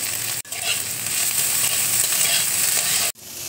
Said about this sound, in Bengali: লঙ্কাটা দেখো হালকা করে ভেজে নিয়েছি।